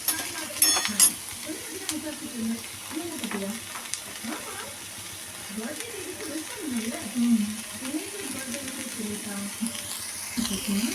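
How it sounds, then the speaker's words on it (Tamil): Onion and tomato sauté in oil in a pan for tomato chutney, a soft sizzle and frying crackle with occasional stirring scrapes, quiet and steady throughout. "நல்லா ஆயில் விட்டு நல்லா வதக்கிக்கிறோம்."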